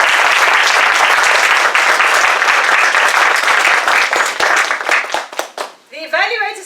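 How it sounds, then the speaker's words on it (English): An audience at a Toastmasters speaking event gives a loud round of applause for the speakers, dense clapping close and sustained for several seconds before thinning into scattered claps, with a voice starting to speak at the end. "So please give a round of applause to those speakers."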